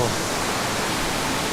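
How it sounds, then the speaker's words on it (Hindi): Mawo waterfall near Anini in Arunachal Pradesh pours down as a dense, unbroken rush of falling water, loud and close, holding steady throughout. "ये है खूबसूरत मावो वाटरफॉल,"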